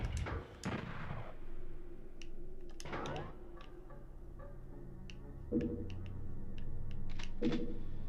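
Rocket explosions in the PS1 game Doom, several sharp blasts followed by rumbling tails, with quieter clicks and ticks scattered between, game sound alone without talk.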